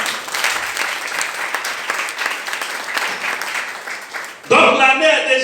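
A church congregation at a pastor's sermon claps and cheers in sustained, dense applause that swells, then fades as a voice rises over it near the end.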